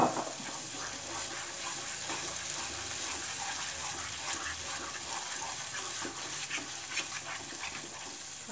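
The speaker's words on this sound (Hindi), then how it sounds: "अब हम थोड़ा सा इसमें पानी डाल देंगे।" Water is poured into a pan of dum aloo curry, a steady gushing splash that runs continuously without talk.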